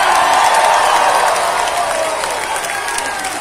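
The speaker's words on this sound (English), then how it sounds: "Give a round of applause" Concert audience at Hampton Beach Casino applauding and cheering during a rock show, a dense, loud wash of clapping that holds steady and eases slightly toward the end.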